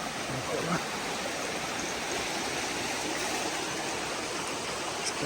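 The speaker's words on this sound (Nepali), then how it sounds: "खोला छ।" A flowing stream runs in a forest, a dense, continuous wash of water that stays steady and fairly near for the whole stretch.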